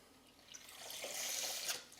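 Water trickles and splashes through a Sawyer Mini water filter, a soft steady flow that swells in the second half and then eases, fairly close and with no voices.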